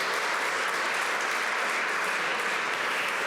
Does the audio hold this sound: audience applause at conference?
yes